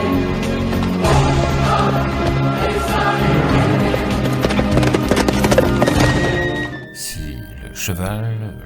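A horse's hooves clip-clop in a steady galloping rhythm, the horse carrying an armoured rider along a road. The hoofbeats are loud and close, and a brief whinny-like sound comes near the end.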